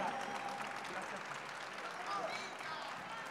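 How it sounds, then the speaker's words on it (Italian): An audience applauds at a live Naruto dubbing event, a dense, steady wash of clapping that holds at an even level, with a few faint whistles or cries rising above it. "Un grande applauso a Leonardo"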